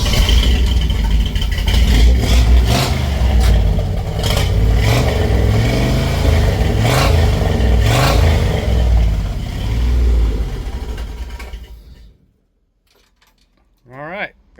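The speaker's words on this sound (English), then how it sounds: "It worked, but now we have smoke, a backfire through the carb." A 1966 Chevy truck engine cranks, catches and revs hard, loud and close, with clattering bursts and sharp pops from a carburetor backfire before cutting off into silence; a brief faint voice follows.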